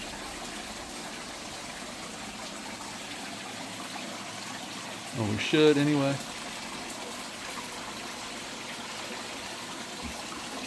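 Steady outdoor water flow runs throughout, with a brief louder splash and a short spoken remark partway through.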